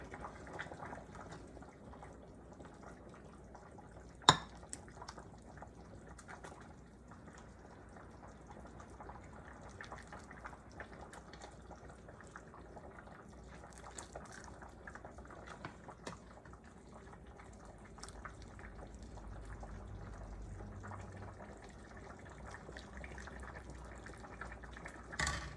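Pot of peppery chicken soup just taken off a hot stove, still bubbling with a faint, continuous low simmer and soft liquid pops, quiet and steady throughout, with one brief sharp click early on.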